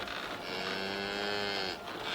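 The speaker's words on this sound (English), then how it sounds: "Have you fed the cows and sheep yet, Shem?" A cow gives one long, drawn-out moo, clear and fairly close, over a faint hum with no other voices.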